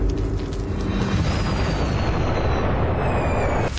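A handmade fire starter of tree sap and sand goes off in a loud, sustained explosive roar that rumbles steadily for several seconds before cutting off abruptly, with no voices over it.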